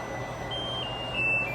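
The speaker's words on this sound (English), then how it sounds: "Timer's going off." A kitchen timer goes off during pressure canning of chicken, sounding a thin, steady high beep tone that starts partway through and grows slightly louder near the end, with no voices.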